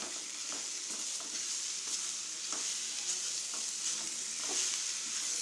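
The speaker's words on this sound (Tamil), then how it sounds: "நல்லா 2 நிமிஷம் நல்லா வறுத்துக்கணும்." Broad beans (avarakkai) frying in a pan for sambar give a soft, steady sizzle with intermittent clicks and scrapes of stirring, fairly quiet and with no speech.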